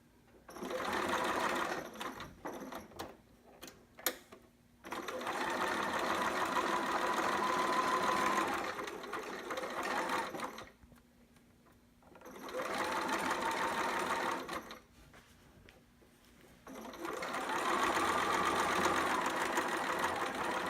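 A sewing machine stitches a baby sitter outfit in three long whirring runs, each lasting a few seconds, separated by short quiet pauses and a few quick ticks, loud and close.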